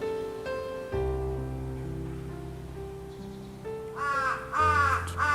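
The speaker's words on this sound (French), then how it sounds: "Par contre le corbeau là-haut, tu vas te calmer tout de suite." A crow perched high overhead gives several loud, harsh caws close together near the end, over a faint outdoor background with sustained tonal hum beneath.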